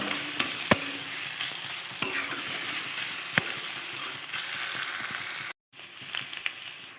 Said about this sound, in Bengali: ভালোভাবে শাকটা এই মশলার সঙ্গে মিক্স করে নেব।